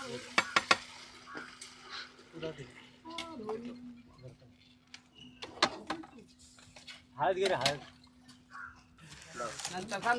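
A large pot of chicken and masala being stirred for a friends' group Ashadh party, with scraping, clattering strokes scattered through the clip beneath frequent conversation close by.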